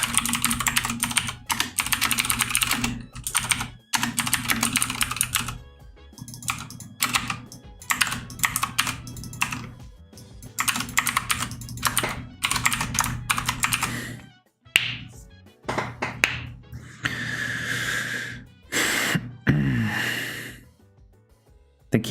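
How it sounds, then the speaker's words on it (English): A computer keyboard clatters loudly and close up in continuous rapid bursts of typing, broken by a few short pauses and some breathing, with no speech. "keyboard is so loud as now."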